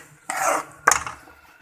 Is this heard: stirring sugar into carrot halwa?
yes